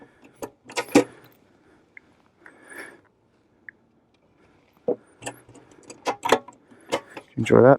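Metal keys jangle in a few short close clinks and rattles, separated by quiet pauses, with brief speech near the end.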